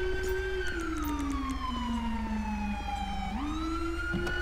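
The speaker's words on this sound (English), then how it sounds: "Can you stop running your siren 3 feet from my eardrum, please?" A police car siren in the GTA V game with the LSPDFR mod wails loud and close, its pitch sweeping slowly down and then jumping back up over a constant low engine rumble.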